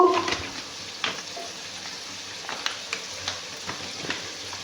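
Smashed egg frying in a pan gives a steady, moderate sizzle, with a few soft scrapes and taps of a spatula scattered through it.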